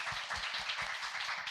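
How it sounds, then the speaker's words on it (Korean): An audience claps together at a Korean office-life talk show, a steady, fairly quiet wash of applause lasting the whole moment with no voice over it. "박수 한번 칠까요?"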